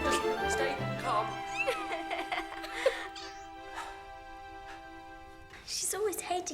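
A cat meows in several drawn-out, wavering cries, fairly close, amid a busy scene with overlapping voices and music-like tones; the calls rise and fall, with a louder burst near the end.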